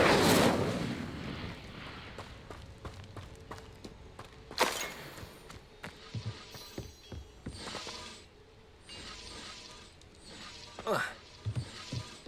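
Spell effects from Hogwarts Legacy, with the Incendio fire spell cast among others. A loud whooshing burst opens, followed by a series of sharp magical cracks and mechanical clicks, with further bright bursts partway through and near the end.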